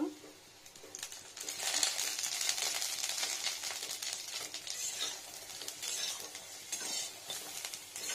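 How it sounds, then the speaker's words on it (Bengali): Raw chana dal fritters sizzle and crackle steadily in hot mustard oil, a close, continuous frying hiss with small pops and occasional stirring. "বড়াগুলো ভাজা যাচ্ছে, খুব সুন্দর ফুলছে"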